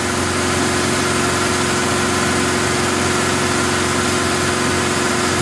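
A car engine idles steadily during a battery tester check, a continuous loud mid-to-low hum with even vibration throughout and no talk.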